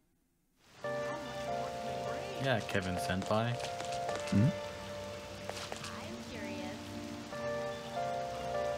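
Rain falling steadily in Persona 5 Royal, a soft constant patter sitting under a game music drone with a few spoken lines over it.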